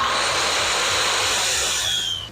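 A circular saw cuts steadily through material for about two seconds, a loud close, bright whining buzz that tapers off at the end with no talking.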